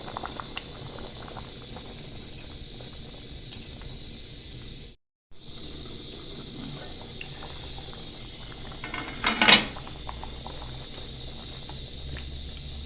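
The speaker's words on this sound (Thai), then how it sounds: "ก็ใส่ กุ้งสดลงไปเลยนะครับ" Coconut milk soup with young coconut shoots boils steadily as clumped fresh shrimp go in, a continuous bubbling simmer with a brief drop to silence midway and a small splash-like burst near the end.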